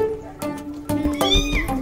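A domestic cat meows several times in quick succession, short rising and falling cries close by, with no talking over them.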